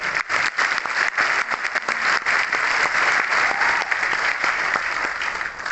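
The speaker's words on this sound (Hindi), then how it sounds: "एक बार जोरदार तालियां बजाएंगे बाली सर के लिए।" Loud, sustained applause from a large seminar audience in Jaipur for a speaker on stage, a thick, continuous roar of many clapping hands with sharp individual claps poking through.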